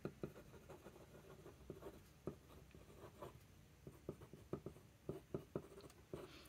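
A TWSBI Diamond 580 Iris fountain pen scratches across paper in close, uneven bursts of short strokes with brief pauses between, alone without talk.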